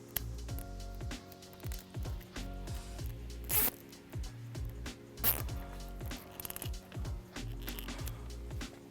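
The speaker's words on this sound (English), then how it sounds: "We're going to secure it using a zip tie." A plastic zip tie ratcheted tight around trailer wiring on a 2019 Jeep Wrangler JL, a series of close rapid zipping clicks in short repeated pulls with brief pauses between, no talking.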